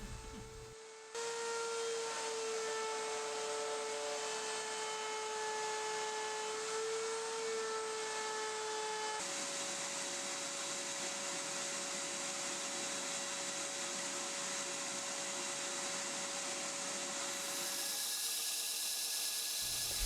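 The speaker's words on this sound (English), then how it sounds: "I'll head back over to the router table to use a roundover bit" Router table spinning a roundover bit to shape knife handle scales for a tanto knife, a loud steady high whine with tonal lines that shifts pitch as the cut loads and eases, running throughout and stopping near the end.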